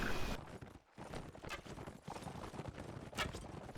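Hoofbeats of cavalry horses galloping in a medieval battle video game, a rapid continuous clip-clop drumming close and loud, with a brief gap partway through and a faint whinny.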